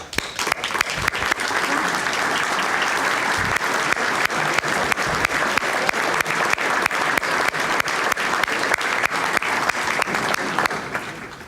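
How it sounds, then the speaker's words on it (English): An audience applauds program workers at a City Club talk on the O'Hare Modernization Program, a long, sustained wave of many clapping hands at steady loudness with a faint voice or two underneath. "I would ask that you join me in giving them a round of applause."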